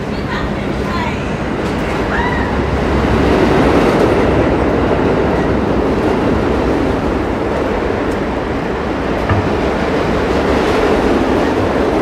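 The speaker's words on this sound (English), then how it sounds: "You can hear the subway noise." A New York City subway train rumbles past loudly in a continuous roar, with faint metallic wheel squeals rising over the din, and a voice briefly audible.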